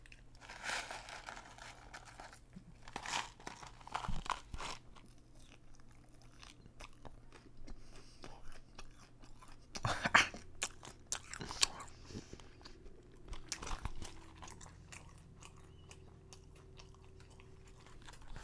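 Steak n Shake fries are eaten close to the mic, with scattered crisp bites, soft wet chewing and occasional sharper crunches in an otherwise quiet room.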